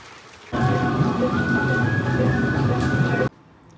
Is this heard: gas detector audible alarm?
no